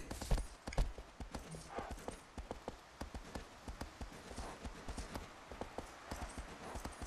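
Horse hooves clip-clopping in the video game Shadow of the Colossus, a regular run of distinct hoofbeats that starts with a few louder strikes, heard alone at a moderate distance.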